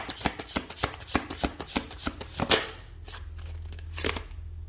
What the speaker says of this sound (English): I'm now going to pull some advice cards using my smaller deck.